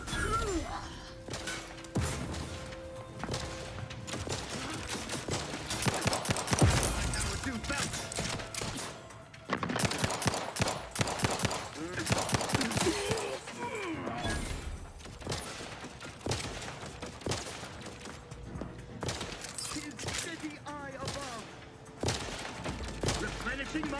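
Gunfire in the video game The Outer Worlds comes as dense bursts of shots, crashes and impacts over a chaotic stretch, with a voice talking over parts of it.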